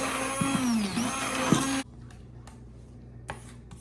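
Strawberries, sour cream, sugar and vanilla get mixed by a loud, whirring motor for under two seconds before it cuts off abruptly, leaving a quiet room with a few faint ticks and taps.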